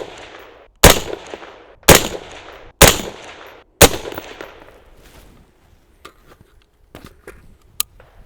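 A rifle fires Swedish .223 solid copper core lead-free match ammo: four loud, sharp shots about a second apart, each with a short decaying echo, followed by fainter clicks and one more distant crack.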